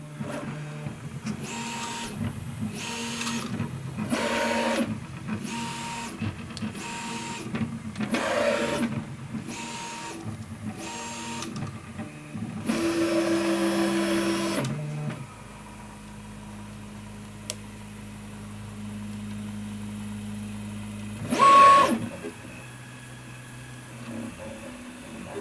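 A 3D printer prints a skirt after its filament is reloaded: rhythmic bursts of stepper-motor whirring and buzzing, then a quieter steady hum broken by one brief louder buzz.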